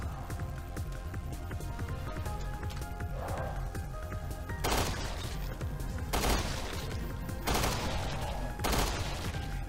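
An automatic gun fires in a Resident Evil 2 Remake raid mod, with several sharp bursts of rapid shots spaced a second or so apart over a constant game background.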